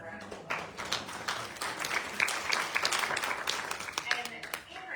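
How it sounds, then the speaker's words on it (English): Audience at a fashion show applauding, scattered and fairly dense clapping mixed with voices and a little chatter throughout. "let's give her a round of applause"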